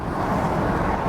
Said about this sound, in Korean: 이게 지금 제 밖에 있는 도로 소리인데,